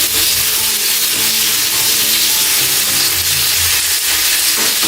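Pork tenderloin sizzles in hot oil in a frying pan, a continuous loud crackling hiss that stays close and even throughout, with no talking.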